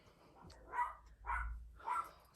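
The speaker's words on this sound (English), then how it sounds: "And there's the dog barking." Three distinct dog barks in a quick irregular rhythm, fairly faint and somewhat distant, with quiet background between them.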